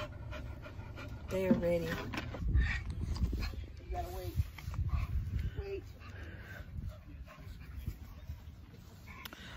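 Dogs pant and whimper during an outing at a state park waterfall area, with steady close breathing and occasional short whines mixed under people talking nearby.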